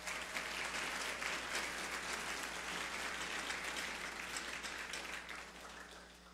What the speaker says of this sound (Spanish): Para los abogados presentes, un fuerte aplauso también